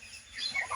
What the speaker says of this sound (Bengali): এইটা হলো মাতৃ হাঁস